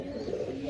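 A pigeon offered at a bird sale gives a single short, soft coo, close and alone.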